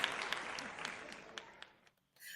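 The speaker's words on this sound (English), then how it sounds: "give me that golf clap next" Soft golf clap from a live podcast studio audience, a dense patter of light hand claps that gradually fades out, followed by a brief silence and then a short burst of noise.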